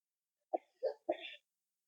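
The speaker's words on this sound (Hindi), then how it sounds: "खांसी ज्यादा हो रही है" Three harsh coughs in close succession from an older woman indoors during a religious discourse, the last one drawn out, loud and close with silence around them.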